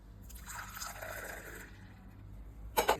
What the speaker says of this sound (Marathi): गरम पाणी तिच्यात डायरेक्ट वरून ओतायचं